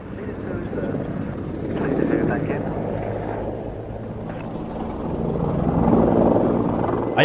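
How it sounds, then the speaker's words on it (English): Helicopter flying at an air display, a continuous loud rotor and engine drone that swells and eases twice, with a faint voice in the background. "I always think this is a bit of a frightening looking helicopter."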